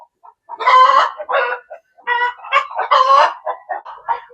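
Chicken cackling loudly and close after laying an egg, a run of harsh, repeated squawking clucks in several bursts with short pauses between them.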